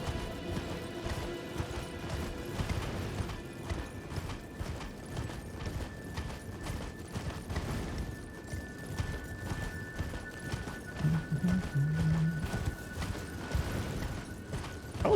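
Horse hooves in Elden Ring clip-clop in a steady galloping rhythm, moderately close, over a sustained ambient musical drone, with no talk.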